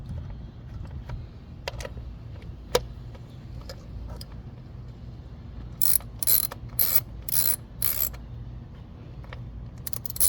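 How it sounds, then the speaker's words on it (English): A ratchet clicks in quick, rhythmic bursts as it turns the ignition coil bolts on a 2021 Hyundai Sonata SE. Five or six short runs of close, sharp clicking rise over a low background hum, with a few scattered taps before them. "need the ratchet"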